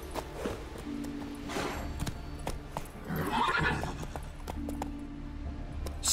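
Roach, Geralt's horse in The Witcher 3, whinnies loudly and repeatedly while hooves clop in a quick, steady rhythm beneath, with the neighing swelling mid-way before the gallop carries on.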